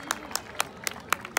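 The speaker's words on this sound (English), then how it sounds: "Nothing but claps," Sparse, distinct hand claps at a graduation ceremony, about six separate claps spaced roughly a quarter second apart, fairly close over a quiet crowd background.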